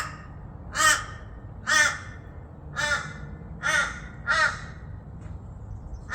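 Crows caw five times in a slow, evenly spaced series, each harsh call loud and fairly near, with quiet ambient noise between them.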